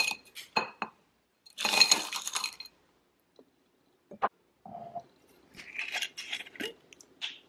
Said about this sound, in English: let's add the ice.